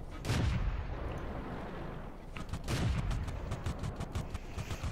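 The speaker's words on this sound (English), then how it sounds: "He's shooting from the middle part of this bridge." Tank cannon fire in World of Tanks, two heavy booming shots about two seconds apart followed by a string of rapid cracks, loud and close with a rumbling tail.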